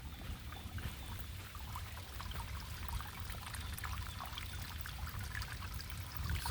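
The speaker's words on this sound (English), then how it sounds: "water's flowing right into it" Rainwater from a downpour runs steadily into yard drainage basins, a soft continuous trickling and pouring wash heard close by without talk.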